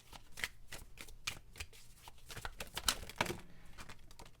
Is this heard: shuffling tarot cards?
yes